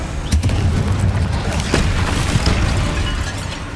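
Incendio fire spells are cast repeatedly in the video game Hogwarts Legacy, producing loud whooshing bursts and sharp cracking impacts over a dense, continuous roar of flame and game effects.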